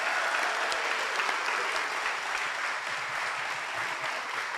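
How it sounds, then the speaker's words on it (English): Audience applause at a workforce development completion ceremony, many hands clapping together close by in a dense, steady burst that keeps going for the whole stretch. "Another round of applause."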